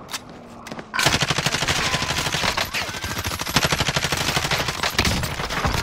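Rapid automatic gunfire in the video game Warzone follows a quiet moment, then rattles on in dense, loud bursts with sharp individual shots standing out throughout.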